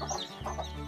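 A hen on a small farm gives a short, close cluck with a soft throaty rise and fall, brief and clear against quiet surroundings.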